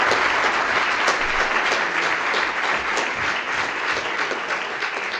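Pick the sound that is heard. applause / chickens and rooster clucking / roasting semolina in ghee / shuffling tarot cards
applause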